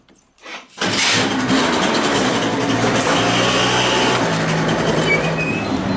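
A small motorbike engine cranks briefly, then catches and settles into a loud, steady, close running idle that continues to the end.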